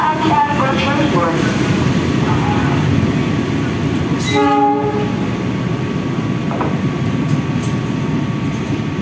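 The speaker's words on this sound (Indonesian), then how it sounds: "masuk kereta api Argo Cirebon." Argo Cirebon train pulling into Bekasi station with rumbling wheels and clatter throughout, a loud horn blast sounding midway, and a station announcement voice over the noise.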